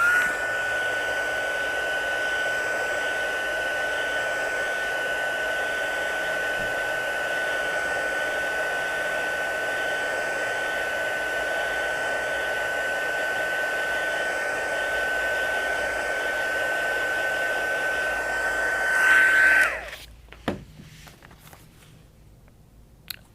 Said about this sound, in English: So I'm gonna grab my hair dryer.